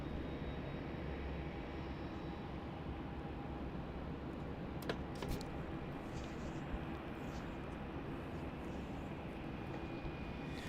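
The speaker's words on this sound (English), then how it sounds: "the Qantas 737 about to touch down on 16 now from Christchurch" A Qantas Boeing 737 arriving from Christchurch touches down on runway 16 at Melbourne Airport, giving a steady, broad jet roar that stays constant throughout, with a brief sharp transient near the middle.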